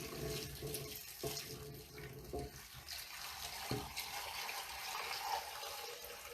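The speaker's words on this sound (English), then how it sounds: "You can hear the water pouring." Hot water pours steadily from a container over cucumbers packed in a jar for pickle brine, a continuous faint splashing trickle with a few soft knocks, no talking.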